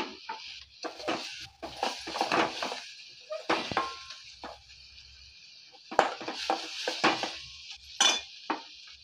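A utensil clinks and scrapes in a pan while an onion-coconut masala with turmeric and coriander is stirred and sautéed for a mushroom dish, sounding as irregular close taps and scrapes with quiet gaps between them.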